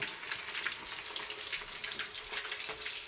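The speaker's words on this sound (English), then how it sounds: "that's to do rapid deep frying" Oil at about 400 degrees sizzles and crackles steadily as Chinese steak deep fries, a continuous bubbling hiss, close but fairly quiet.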